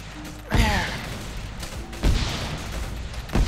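Gunfire in an Arma 3 Vietnam-themed battle: three sharp, close shots ring out about 1.5 seconds apart, each with a short decaying tail over a background of low game ambience.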